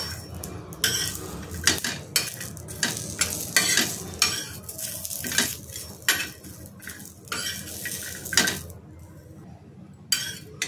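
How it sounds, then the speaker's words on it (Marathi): Coconut roasts in a pan with green chilies, ginger and garlic, stirred in bursts that give repeated scrapes and clinks against the metal over a low sizzle, near and loud, with no voices. "खोबरं हलकासा भाजत आलेलं आहे, त्याच्यामध्ये मी 2 मिरच्या, आलं आणि लसूण टाकून ते सुद्धा हलकासा भाजून घेते।"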